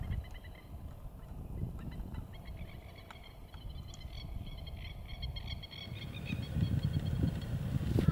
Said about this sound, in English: So, those are masked lapwings flying across the water there.